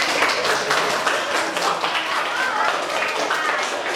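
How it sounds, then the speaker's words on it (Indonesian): Students in a classroom clap for a classmate during a lesson on banking and monetary policy, a dense, continuous patter of hand claps at close range, with voices mixed in. "tepuk tangan dulu untuk syariah."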